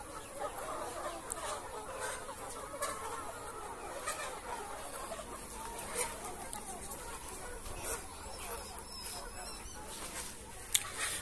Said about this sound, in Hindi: ये देखिए इस जाले के अंदर मुर्गे ही मुर्गे।